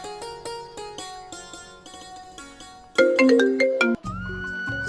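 A melodic electronic ringtone plays a bright repeating tune of quick tones, growing louder partway through, with no talking.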